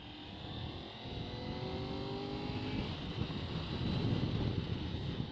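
An old motorbike engine droning at full throttle while riding, steady and close with rising pitch lines and heavy wind rush building toward the end, no talk.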